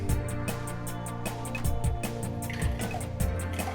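A smoothie pours and glugs steadily from a portable glass USB blender, with rhythmic gurgling bubbles and splashes, close up and moderately loud.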